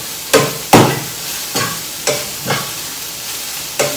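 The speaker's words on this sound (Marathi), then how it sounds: "तुम्ही बघत असले एकदम क्रिस्पी फ्राय करून घेणार मी आता" Shrimp frying crisp in a pan for a Maharashtrian prawn chutney, a close sizzle broken by about six sharp stirring scrapes at irregular intervals.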